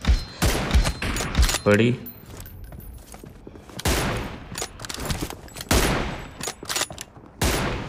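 Bursts of M249 light machine gun fire in the video game PUBG Mobile, several rapid volleys broken by pauses, loud and close, with a voice talking over and between the bursts.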